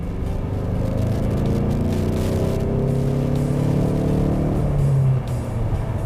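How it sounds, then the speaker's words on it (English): A 2015 Ford Mustang EcoBoost four-cylinder with a manual transmission hums steadily inside the cabin, a continuous engine drone whose pitch rises through a rev before easing off near the end. "Inside, it does make a decent sound."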